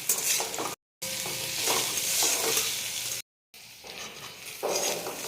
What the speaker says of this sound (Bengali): এবার আমি পেঁয়াজগুলো দিয়ে দিলাম।